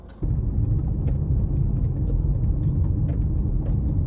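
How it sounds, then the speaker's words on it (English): Low, continuous road rumble from a moving car, with scattered ticks and spatters of mud flung against the body. "That is the sound of all that mud coming off my tires."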